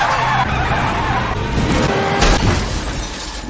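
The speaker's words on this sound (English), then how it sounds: "made the car they were traveling in swerve until it hit a tree in front of him" A car swerves and crashes into a tree in a movie, a loud, dense burst of skidding tyre and engine noise with a sharp impact crash near the middle.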